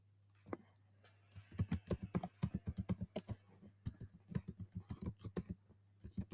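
Code being typed on a computer keyboard: a steady run of crisp, close key clicks in uneven rhythm over a constant low electrical hum, with no voices.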